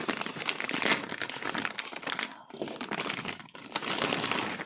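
Plastic packaging crinkles and rustles up close as a pair of PMT rally tyres for a 1/8 scale RC car is opened, with continuous crackling handling noise and brief pauses, no speech.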